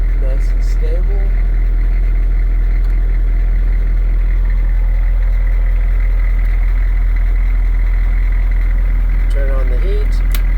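A Humvee HMMWV M1152A2 engine idles at a steady, constant drone with a strong low hum throughout, and a few brief higher tonal chirps near the start and end.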